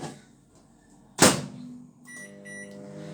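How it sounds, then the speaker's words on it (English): A microwave oven melting chocolate hums steadily at close range, with a loud door clunk partway through followed by the running drone. "I'm going to melt our chocolate. Always same way, in the microwave."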